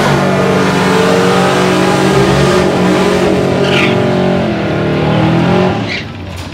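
A race car's engine roars loud and close, holding a steady high-revving drone before a final-run start, the note shifting slightly as the throttle is worked and then cutting off abruptly.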